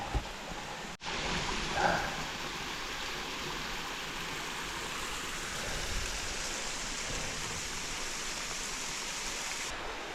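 Summer rain falls on a rocky, slippery mountain trail near Yongchu Valley on Daeyasan in Mungyeong, inside low cloud. It makes a steady, even hiss after a brief sharp click near the start.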